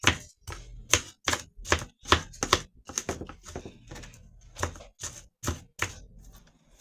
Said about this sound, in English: Make sure everything's chopped up real fine.